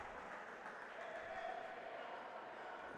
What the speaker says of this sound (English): Gets the applause from the bench on his decisive move.